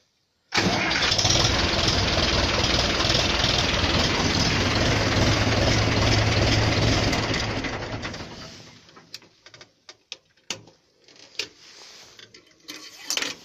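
A Ursus C-360 tractor's diesel engine cranks and catches abruptly after a starter repair, running loud and steady for several seconds, then drops to a quieter idle with occasional clanks.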